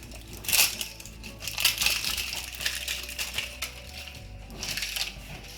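Plastic seal cracking and crunching as a 1 kg slime bucket is forced open, a few sharp snapping bursts close by with no talk.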